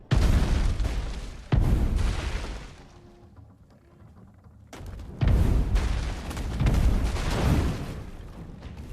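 Fire bombs explode in Last Oasis, heavy booming blasts in a row with deep rumbling tails, a quieter stretch, then more loud explosions rolling close by.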